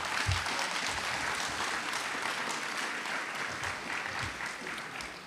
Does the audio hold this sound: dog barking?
no